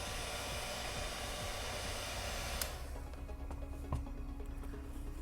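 A heat gun blows a steady, loud rush of hot air onto Boba Fett armor glued with cured barge cement, broadband hiss for the first half, then a lower, softer airflow with a brief click near the end.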